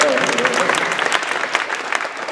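Dense, steady applause from a school assembly audience fills the space at close, loud level, a continuous wash of many hands clapping together.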